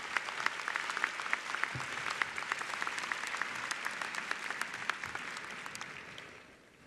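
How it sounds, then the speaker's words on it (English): Commencement audience gives a sustained round of applause, dense clapping from a large crowd that holds steady before tapering off at the end. "Can we maybe have one more round of applause, please?"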